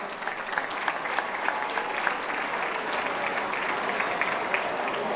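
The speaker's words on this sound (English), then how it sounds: "So give everybody a round of applause right now" A gala audience claps in a dense, steady burst of applause, sustained evenly for several seconds without a break.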